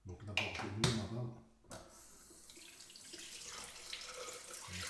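Tap water runs into a sink while a beard is wetted, a soft splashing stream after a few sharp knocks and handling sounds at the start, quiet and close, with a voice speaking briefly.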